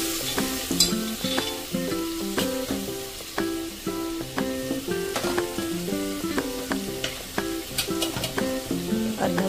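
Turmeric, garam masala, coriander and cumin powders fry in a pan for masala bhat, with a steady sizzle and frequent clinks and scrapes of a spoon stirring against metal, close and fairly loud.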